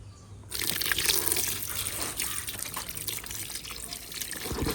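Water poured into a container holding a live fish, a steady close gush of running liquid that starts abruptly and continues throughout with slight splashy variation, without speech.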